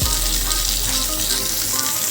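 Boiled green mango fries with salt and turmeric in a pan for a chutney, a loud close continuous sizzle with a low rumble fading toward the end.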